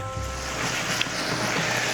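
Water bubbles and hisses steadily in a hot pan of asparagus as it cooks down, a continuous close wash of noise with no one talking.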